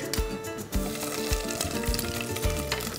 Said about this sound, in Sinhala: අපි මේ දෙක හොඳට මේ විදිහට ෆ්‍රයි කරගන්නවා.